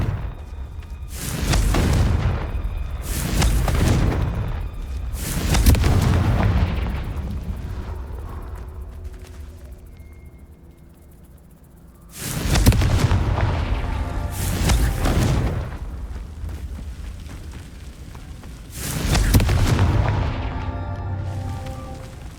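Confringo fire spell blasts in Hogwarts Legacy, a series of loud booming explosions bursting in clusters with rumbling tails and brief quieter gaps between volleys.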